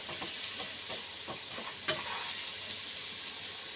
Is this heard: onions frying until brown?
yes